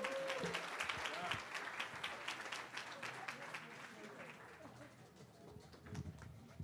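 Scattered audience clapping at a pitch event for Black women entrepreneurs, fairly loud at first and thinning gradually, with murmured talk and voices mixed underneath throughout.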